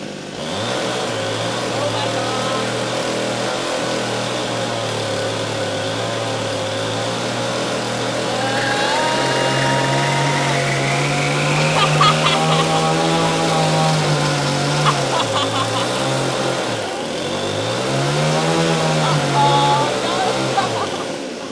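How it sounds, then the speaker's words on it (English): An angle grinder's motor whines loudly and steadily, its pitch sagging and recovering as its thin cutting disc cuts into tungsten carbide chainsaw chain, with voices faintly underneath. "the thin cutting disc was no match for tungsten carbide chainsaw chain"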